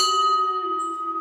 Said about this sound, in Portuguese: vamos agora tocar o sino para chamar as irmãs